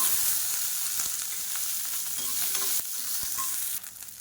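About fifteen small onions and five garlic cloves fry in hot oil, giving a steady close sizzle with a few soft stirring clicks and no voices.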